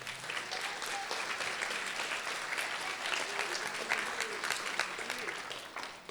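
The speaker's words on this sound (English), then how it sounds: "give him a round of applause" An audience at a middle school band concert claps steadily for an intern, a continuous, moderately distant round of applause lasting several seconds with faint crowd murmur beneath.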